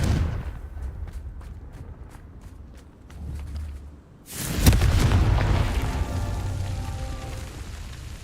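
A Confringo blasting spell in Hogwarts Legacy erupts in a loud explosive boom midway, following a stretch of quieter rhythmic game sounds, then fades into a rumbling tail.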